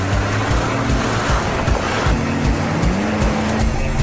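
A car launches hard with tires squealing and the engine roaring, a loud continuous screech and rumble that fills the whole stretch without any talk.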